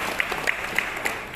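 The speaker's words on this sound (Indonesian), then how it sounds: "Tepuk bagi Allah kita." A church congregation at a Christmas service claps briefly, a soft, distant wash of applause with a few distinct rhythmic claps standing out.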